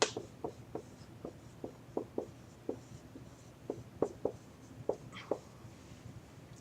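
A marker or chalk writes on a board in a classroom lesson, giving soft, faint taps and short strokes in an irregular rhythm, with a few quick scratchy squeaks.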